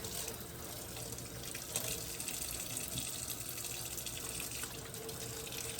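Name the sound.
tap water washing out stuffed baby octopus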